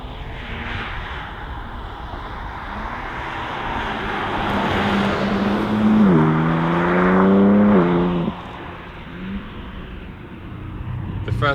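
A BMW M3 Touring drives along a country road near London, tyre and engine roar building as it accelerates through rising gear-change sweeps, then easing off before surging again, loud and close from inside or alongside the car.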